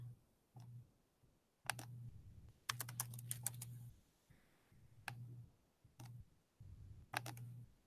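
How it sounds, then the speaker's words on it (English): Short clusters of clicking keystrokes on a computer keyboard as a word is entered, several brief bursts separated by pauses, close and fairly quiet with no talk. "I'm just going to type in the word flower in my box"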